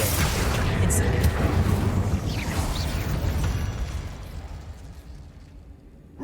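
A fire spell cast in Hogwarts Legacy bursts out loud and close, a roaring whoosh that slowly fades over several seconds amid game ambience.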